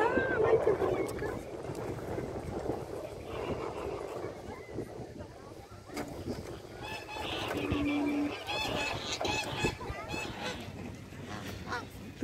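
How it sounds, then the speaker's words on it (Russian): Geese honk repeatedly from nearby at a wildlife park in Bavaria, mixed with people chatting and a busy outdoor background. "Тут еще и гуси."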